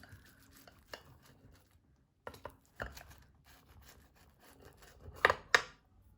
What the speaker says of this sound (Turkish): sıcağı çıkınca şöyle kesmiş olduğumuz yerlerden tekrar bıçakla kesiyoruz